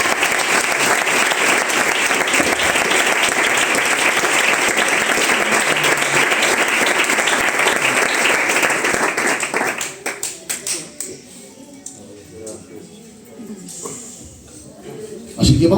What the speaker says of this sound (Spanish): Dan un aplauso a la palabra del Señor